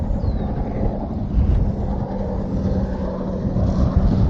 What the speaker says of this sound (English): Jet skis sound cool and are cool